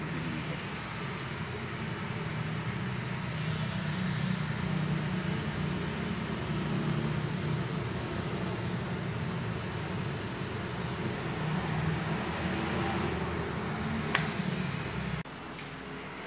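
Hydrogen H2 generator for hydrogen therapy running with a steady, dense hum and broadband hiss that holds evenly for about fifteen seconds, then drops slightly near the end; no talking.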